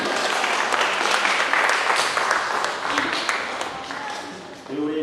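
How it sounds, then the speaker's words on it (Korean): A Korean church congregation in Sydney applauds during a Sunday service, a dense wash of clapping that fades slightly toward the end, with a voice breaking in at the close. "우리 아이들 다시 한번 수고했다고 박수 한번 보내주시기 바랍니다"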